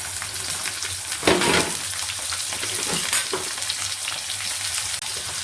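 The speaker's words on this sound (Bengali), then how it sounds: "প্রথমে আমি আলুগুলোকে ভেজে নেব এরপর দিয়ে দেবো আমি গাজর শক্ত জিনিসগুলো আগে একটু ভেজে নিচ্ছি" Potatoes and carrots fry in a pan with dry red chillies and panch phoron, making a steady, fairly loud sizzle with bursts of stirring and clatter.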